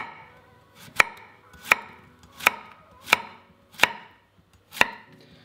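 Zucchini sliced into circles with a knife on a cutting board, six sharp, evenly spaced chops against the board with quiet gaps between them.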